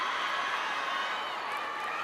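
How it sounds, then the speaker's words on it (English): A loud volleyball crowd packs the MOA arena during a professional finals match, a dense, steady roar of thousands of voices with no break. "The crowd is very loud here in MOA."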